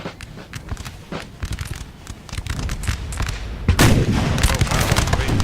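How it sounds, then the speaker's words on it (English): French artillery cannons firing in Napoleon: Total War battle, a continuous barrage of booming shots and crackling gunfire, with a heavier, louder burst of blasts rolling in near the end. "Who's firing the artillery? These guys. Ah, some French artillery."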